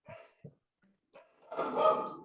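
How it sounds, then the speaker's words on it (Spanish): Several excited dogs barking indoors, with a couple of sharp yaps early on and then a louder burst of overlapping barks and whines near the end. "que tengo a mis perras excitadas"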